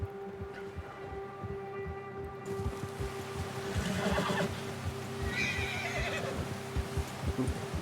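A horse walks through snow in the Red Dead Redemption 2 game, with steady hoof steps, snorts and a whinny over a low, constant hum and a faint background tone.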